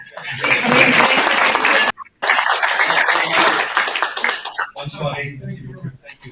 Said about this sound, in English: we'll do one more collective round of applause just so it feels good.